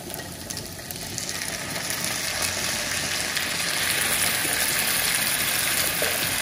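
Calabresa sausage frying in its own rendered fat without oil, a steady close crackling sizzle that grows slightly louder and continues throughout.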